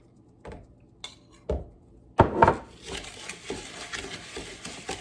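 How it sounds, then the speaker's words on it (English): Crushed graham crackers and Biscoff cookies being stirred with melted butter for a cheesecake crust, a few scattered clinks followed by steady scraping and tapping of a utensil against the bowl, close and without speech. "to that I'm adding 1/3 of a cup of melted butter. I'm going to get that all mixed up."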